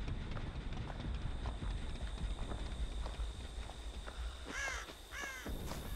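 Crows caw twice in a horror video game, harsh calls rising over a busy backdrop of rapid hoof-like thudding and a constant high electronic tone.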